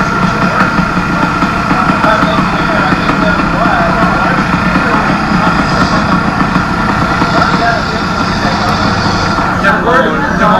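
Enduro motorcycle engine running steadily during a Forestry Service noise check at a 1987 Hi Mountain enduro event, a continuous loud rumble with crowd chatter and voices mixed in throughout.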